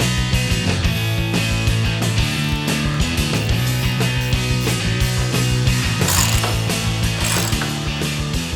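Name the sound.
bolting in lower crash bar with ratchet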